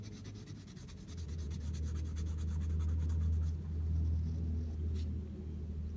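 A colored pencil shading on paper, a steady soft scratching rub that continues for several seconds close to the microphone, with no talking.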